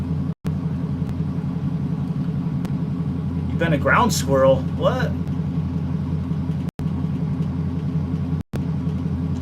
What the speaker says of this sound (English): Thanks for riding with me, listening to my car.